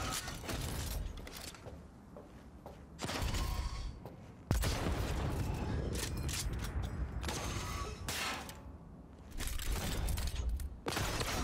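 Bursts of gunfire in the Cyberpunk 2077 video game come in several loud, dense volleys separated by brief lulls, with mechanical clatter mixed in and no talking.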